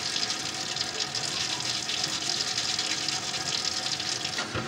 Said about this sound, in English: Wash the potatoes real good and rinse them.